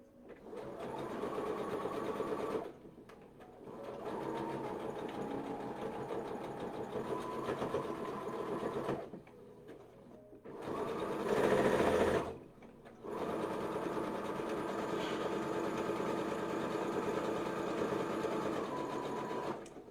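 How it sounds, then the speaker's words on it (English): A sewing machine stitches slowly in several long runs of steady mechanical whirring, each lasting a few seconds and separated by short pauses. One brief run is louder. No voices. "Look at me slow sewing."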